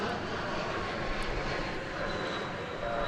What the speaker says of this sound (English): We have another 777 coming in. It's coming in on the east side of the airport from Tulsa.